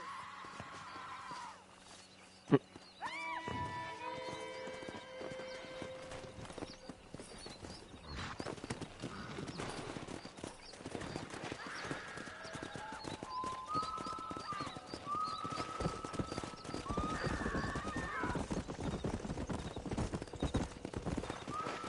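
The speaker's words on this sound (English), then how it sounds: "Let's see if we can't wrangle some horses." Steady clip-clop of horse hooves throughout with several horse neighs and whinnies, against a busy Red Dead Redemption game soundscape on PS5.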